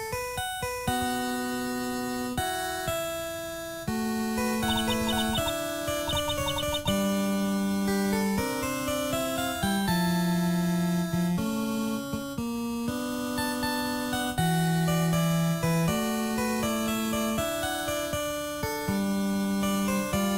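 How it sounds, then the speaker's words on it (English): A phone ringtone plays in the Ace Attorney video game: a long, clear electronic melody of steady, distinct notes that keeps repeating for about twenty seconds at a loud, even level, with no one talking. "Longest ringtone ever."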